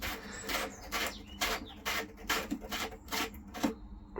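Part of a faulty toilet flush mechanism is being unscrewed. A close series of regular rasping, ratcheting twists repeats roughly every half second, like plastic threads grinding, with no talking.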